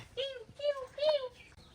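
A caged parrot in a Bangladeshi village makes three or four short, harsh, nasal calls in quick succession, close and fairly loud.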